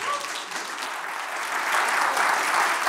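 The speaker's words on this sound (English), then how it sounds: "Let's give a round of applause to Uriel." Steady applause from an audience at a cryptography masterclass, a dense patter of clapping that swells slightly toward the end.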